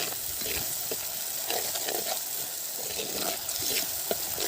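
Garlic cooking in sesame oil in a pan, a continuous bright sizzle and crackle with occasional stirring scrapes, close and fairly loud, no talk.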